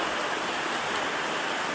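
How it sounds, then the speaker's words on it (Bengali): Steady, continuous heavy rain pours down outside a house during a flooding downpour, a dense, unbroken hiss that stays even and close with no voices. "এই বৃষ্টি হইতেছে"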